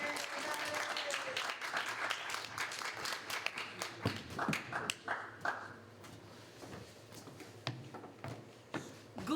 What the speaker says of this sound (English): please do applaud